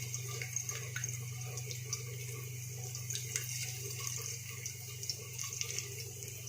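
Chopped garlic hits hot oil in a pan, giving a steady, soft hissing sizzle with small crackling pops and a low hum beneath, continuous throughout.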